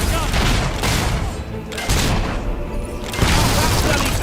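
Gunfire in the video game Fable III, a dense, loud run of booming shots and bursts spread across a few seconds, with a brief lull before more blasts close in, amid busy battle noise.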